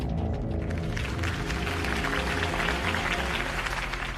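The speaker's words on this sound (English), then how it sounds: "could have heard that applause" A crowd in the Batman Telltale game applauds Harvey Dent after his campaign speech, with dense, steady clapping and cheering that stays loud and close throughout.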